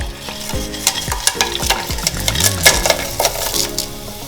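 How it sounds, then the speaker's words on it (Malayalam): Whole spices sizzling as they drop into hot oil for chicken biryani, with steady crackling, scraping stirs and light clinks of utensil on the pot, close and fairly loud. "ഓയില് ചൂടായിട്ടുണ്ട് നമ്മുടെ കയ്യിലുള്ള ഓൾ സ്പൈസസ് നമുക്ക് ചേർത്ത് കൊടുക്കാം"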